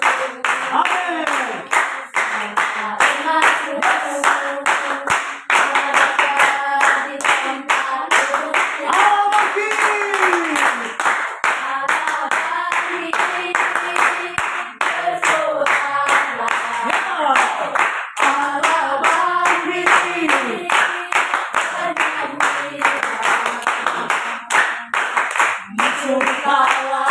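Worshippers at a GMAA church service on Rote Ndao keep up brisk, even hand clapping for a long stretch, loud and near, beneath continuous singing and spoken voices.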